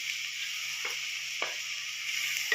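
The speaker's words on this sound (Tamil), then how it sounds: "ஒரு ரெண்டு செகண்ட் நல்லா வதக்கிடலாம்" Onions sautéing over low heat in a pan for chicken thokku: a steady, close, hissing sizzle runs throughout, broken by a few short scraping stirs of a spatula, with no talking.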